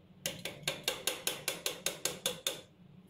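The back cover of a Xiaomi mini vacuum cleaner is twisted open, producing a quiet, rapid run of about eleven evenly spaced ratcheting clicks from the plastic catch, heard close and alone.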